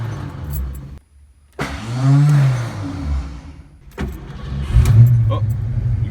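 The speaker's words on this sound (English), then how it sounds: "I just went to start the car and listen to this." A Ford Foxbody Mustang engine cranks, catches and revs up, rising into a loud roar before settling and surging again, close by with voices talking over it.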